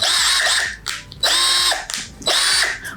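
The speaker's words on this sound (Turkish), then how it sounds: "Bu darbesiz bir matkap." Cordless non-impact drill with a dual-speed gearbox: three loud, close bursts of high whining motor, each revving up and winding down with short pauses between.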